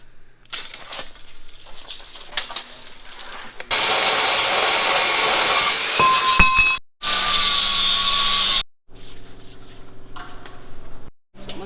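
Power saw cutting a steel stalk stomper tube for a 12-row Geringhoff Horizon folding corn head, with two loud sustained cuts of about two seconds each, set between quieter handling and clattering.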